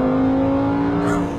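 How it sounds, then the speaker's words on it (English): Lamborghini Huracan Performante with its 631-horsepower V10 engine, a loud, close, sustained high-pitched rev with a strong steady tone, very brief and without talk. "let's find out what a very angry Italian V10 and 631 horsepower actually sounds like"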